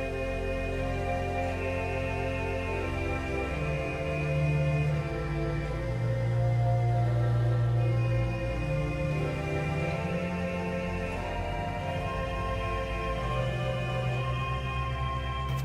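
The Hinsz pipe organ in Kampen's Bovenkerk plays its Vox Humana reed stop with the tremulant engaged, sustained chords wavering in a steady pulse over a held bass, continuous and resonant.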